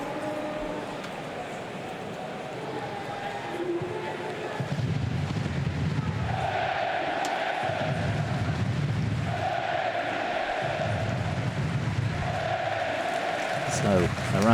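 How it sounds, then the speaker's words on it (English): A football stadium crowd applauds as substituted player Kessel leaves the pitch at an Eintracht Braunschweig versus KFC Uerdingen 3rd Division match, a broad, steady wash of clapping with a commentator talking over it. "So a round of applause around the ground as Kessel comes off."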